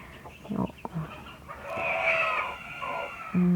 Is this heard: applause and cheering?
no